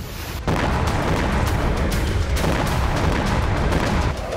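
Russian artillery shelling in Ukraine: a dense, continuous roar of heavy blasts and rumbling booms, loud and sustained for several seconds, with no voices.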